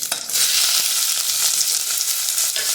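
Mustard seeds and cumin sizzle in about two tablespoons of hot oil in a pressure cooker, a loud, close, steady crackling hiss that starts abruptly and continues without speech.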